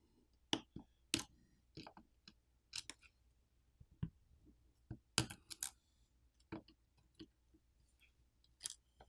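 Small sharp clicks and snaps, scattered and close, as coaxial cable connectors are popped off the board of a Unihertz Golden Eye phone during teardown, with no talking.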